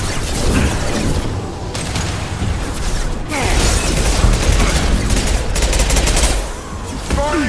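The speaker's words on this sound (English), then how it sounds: "Firing an impact shot!" Gunfire in the Mass Effect 2 sci-fi shooter: dense automatic weapon fire in long sustained bursts with heavy impacts and clattering mechanical sounds, loud and close, briefly pausing between volleys.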